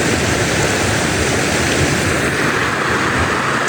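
A wide river flows in a steady, loud, full-bodied rush. It runs continuously with no voices over it.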